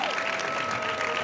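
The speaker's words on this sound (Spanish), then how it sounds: "¿Le podemos dar un fuerte aplauso, por favor" A conference audience applauds steadily for a panel of speakers at a talk on digitalization, a dense, even wash of clapping filling the room with no voices on top.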